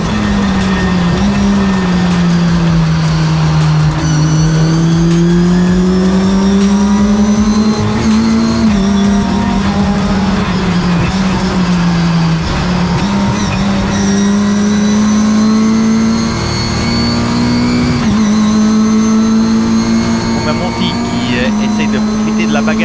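Race cars roar off the start line together, engines loud and close in a sustained rising and falling drone as they accelerate side by side, with an excited commentator talking over the noise.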